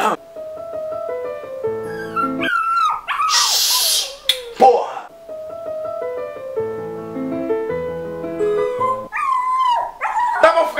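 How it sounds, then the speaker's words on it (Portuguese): Dogs howl and whimper along to music, long rising and falling wails mixing with the tones of a melody, close and fairly loud throughout. "aí na hora que você começa a tocar, os cachorros choram."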